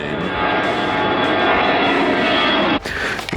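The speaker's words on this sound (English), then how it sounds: "And a plane." An airplane passes overhead in San Diego, a loud sustained engine roar that fills the clip before cutting off abruptly near the end.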